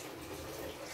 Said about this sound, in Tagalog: Kumukulong-kulo naman yung tubig guys.